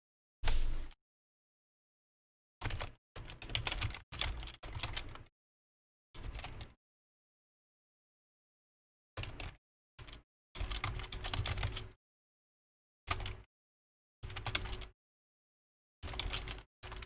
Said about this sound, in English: I'm sorry if I'm typing really loud.